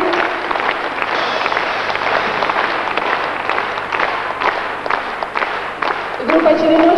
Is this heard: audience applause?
yes